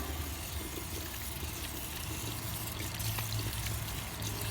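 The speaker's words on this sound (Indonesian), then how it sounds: "bersihkan tangan dengan air mengalir" Hands are rinsed under running tap water, a steady hiss of flowing water with splashing, continuous and moderately loud and close.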